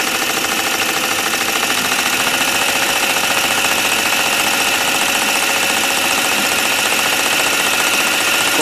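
A PM Research model dynamo runs steadily at about 900 RPM, giving a continuous, dense mechanical whir and rapid rattling hum, close and loud, unchanging throughout with no voices.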